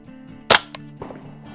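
One sharp rifle shot from a Tactical Solutions survival rifle fired at a target, close and loud, followed by a couple of faint clicks and a brief ringing.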